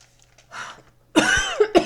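A storyteller's voice imitates a cough, giving a quiet breath followed by two or three sharp, harsh coughs up close.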